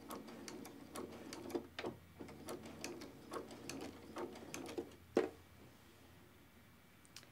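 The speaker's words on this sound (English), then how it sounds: "Now we're going to start stitching and we're going to back stitch at the beginning to secure our stitch." A sewing machine stitches binding onto a quilt in soft, close bursts of rapid ticking needle strokes, pausing between runs, with a louder clunk near the end.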